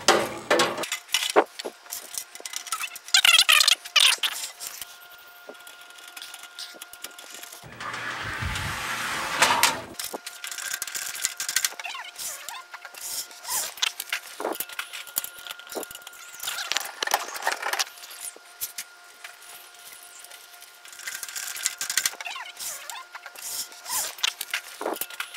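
A small 80 GB SATA hard drive is screwed into a mini-ITX case, with scattered close clicks, scrapes and metallic handling noises from a screwdriver and drive, plus a brief burst of rustling, all without speech.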